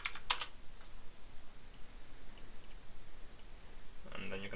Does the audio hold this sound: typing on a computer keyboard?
yes